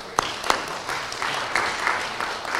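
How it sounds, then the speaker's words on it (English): A church congregation at a Messianic service applauds, scattered claps building into steady clapping from a room of people, not very loud. "Oh, yeah, everybody's clapping."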